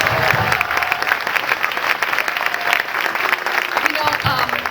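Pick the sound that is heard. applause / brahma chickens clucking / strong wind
applause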